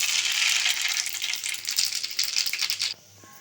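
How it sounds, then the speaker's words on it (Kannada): Mustard seeds in hot oil for green mango pickle splutter and crackle in dense, close bursts of popping sizzle for about three seconds, then cut off to quiet, with no talking. "ಈ ಸಾಸಿವೆ ಎಲ್ಲ ಚಟಪಟ ಅಂದಮೇಲೆ"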